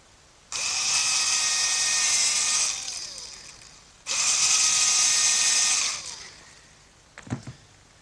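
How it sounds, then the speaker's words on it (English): A small electric drill whines in two steady bursts of about two to three seconds each, close up, drilling pilot holes in hard oak, followed by a brief clunk. "I'm going to have to drill a pilot hole for the screws, especially in this hard oak"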